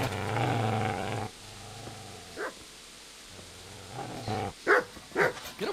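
A dog in the medieval game Kingdom Come: Deliverance gives a low, drawn-out growl, then after a pause lets out several short, sharp barks in an irregular burst, close and moderately loud.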